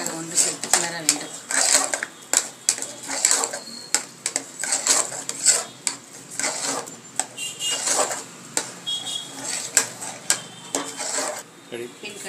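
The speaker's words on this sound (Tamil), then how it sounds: "குக்கரில் வெல்லப்பாகுடன் ரவையை சேர்த்து நன்றாக கிளற வேண்டும்." Semolina stirred into jaggery syrup inside a pressure cooker, a spoon scraping and clinking against the metal pot in quick irregular strokes throughout, close and clear, with a person talking at times.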